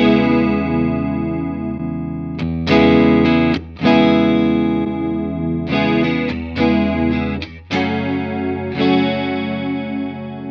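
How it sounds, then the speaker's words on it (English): A Strymon Zelzah modulation pedal giving thick, wide stereo chorus on a guitar with the voice knob at maximum, shimmering sustained chords struck several times, each ringing and decaying, with no talk. "you can get really nice, thick, wide stereo chorus sounds with the voice knob at maximum"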